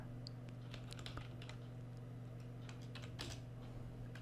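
Keys on a computer keyboard clack in quick, uneven bursts as someone types code in an Excel VBA editor, close and clear over a steady low electrical hum.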